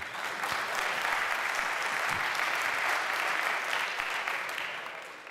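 A tech-talk audience breaks into steady applause that holds for several seconds and then begins to fade, with no voices over it.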